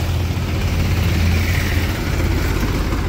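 A tractor engine idles outdoors in a village, a steady low, throbbing diesel rumble that holds evenly at moderate loudness with no talk over it.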